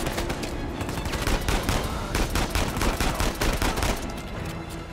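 Rapid gunfire from an Uncharted 4 shootout crackles throughout, dense bursts of automatic shots overlapping in a steady, loud barrage with no pause.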